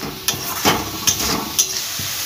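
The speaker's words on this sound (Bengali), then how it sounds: "দিয়ে এটা ভালোভাবে ভেজে নিতে হবে" Ginger and garlic sizzle steadily in hot oil for a jackfruit kalia, with four or five sharp spoon scrapes against the pan breaking through the close frying hiss; no one speaks.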